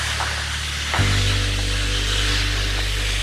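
A stage audience imitates radio static with their voices, a sudden broad hissing wash that starts about a second in and holds steady over a low electrical hum.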